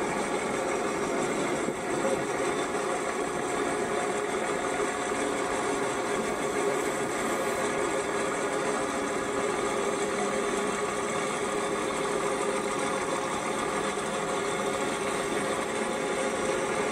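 A John Deere 7810 tractor engine idles steadily at an auction site, a continuous, even mechanical drone with a low rumble that holds unchanged throughout, with no voices.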